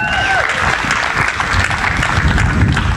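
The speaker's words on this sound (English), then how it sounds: "Big round of applause." A cricket crowd applauds David Warner, a dense, steady roar of clapping that holds loud and close for the full stretch, with a voice rising briefly over it at the start.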